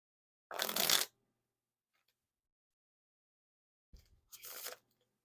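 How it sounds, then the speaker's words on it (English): Riffle shuffle of a deck of Red King Slayer playing cards by Ellusionist, a close, crisp fluttering burst of cards followed by silence, then a softer second riffle near the end. "Now for the riffle shuffle or bridge shuffle."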